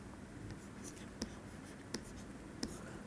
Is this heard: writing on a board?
yes